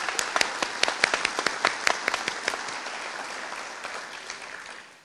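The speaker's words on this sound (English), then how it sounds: "Let's give her a big round of applause for her efforts" Audience applause at a corrections academy graduation ceremony, honoring the officer with the top score. Loud, distinct claps come first and then thin into a steadier, softer patter that fades near the end.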